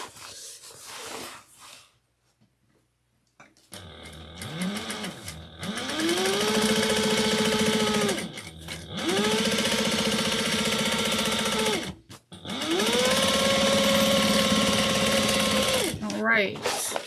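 Sewing machine running in three long top-stitching passes on a pressed garment, each steady whir ramping up and down with short pauses between, close and loud after a quiet start.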